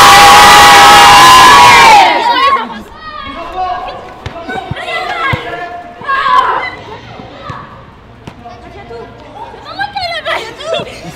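Crowd of children shouting and cheering at a lively public event, a noisy burst of overlapping young voices and whoops after a loud opening tone, with chatter continuing throughout.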